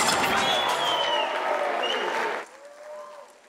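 Church congregation applauding at a youth retreat service, dense clapping with scattered voices that cuts off sharply, leaving a quieter room with a faint whistle-like tone.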